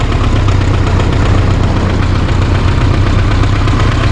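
A 1980 IZh Kombi car engine idles while warming up, a loud, steady, slightly uneven rumbling throb that runs on without pause.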